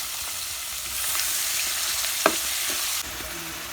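Onions and chillies fry in hot oil in a home kitchen for a curry, a steady loud sizzle with occasional stirring clinks and scrapes, no talk.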